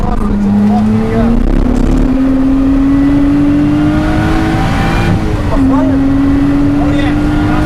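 A race car on the Donington Park circuit, with a loud in-car engine note rising steadily under throttle, a brief dip at a gear change, then climbing again. A voice talks over the engine throughout.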